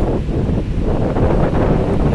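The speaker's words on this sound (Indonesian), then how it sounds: "Cuaca malam ini angin kencang, anginnya kencang banget." Strong night wind at a ferry port on the Sunda Strait: a loud, continuous roar buffeting the microphone, swelling and easing slightly over a couple of seconds, with no voices.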